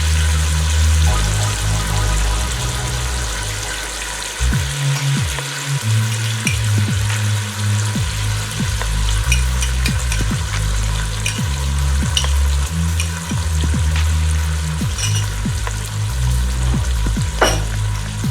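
Dried Peruvian ají mirasol chili fries in a pan for ají de gallina, giving a steady close sizzle with occasional stirring scrapes and crackles throughout, no voices.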